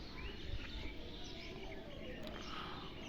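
Flocks of parrots and crows in village trees produce a distant wash of faint chirps and calls, with a voice speaking quietly underneath and some low rumbling near the start.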